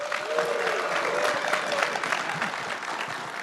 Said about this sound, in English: if you could just give us like a big round of applause